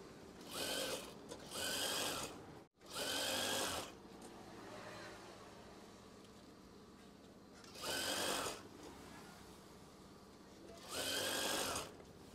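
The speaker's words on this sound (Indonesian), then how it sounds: "Jahit saja secara perlahan." A sewing machine runs in short bursts while stitching an eyelet curtain, whirring close by in several separate spurts between stretches of quieter mechanical hum.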